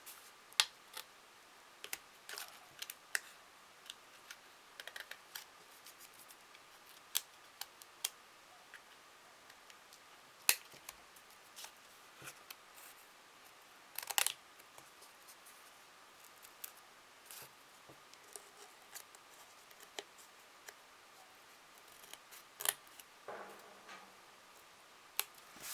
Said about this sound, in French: on peut venir rectifier avec une petite paire de ciseaux